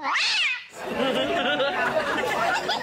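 A cat meows loudly close up, one rising and falling cry, then a longer wavering, yowling call that sounds almost like chatter.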